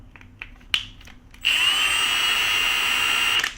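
Milwaukee 2988-22 impact driver spinning at its lowest power setting: a few faint clicks, then a steady, loud, close whirring motor tone that holds evenly for about two seconds before stopping.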